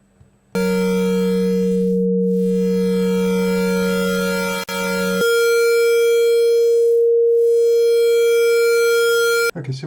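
A loud, steady electronic sine wave tone, thresholded and cut off by wave shaping, with a harsh, buzzy edge, briefly dropping out, then resuming at a slightly higher pitch before stopping abruptly.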